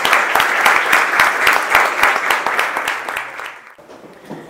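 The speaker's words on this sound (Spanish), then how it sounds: "Un aplauso para los ganadores." Audience clapping for the winners of an essay contest, brisk and sustained for a few seconds before fading out.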